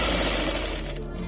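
A sewing machine running steadily while stitching a seam on a simple qameez, with a continuous close mechanical whir and no pauses.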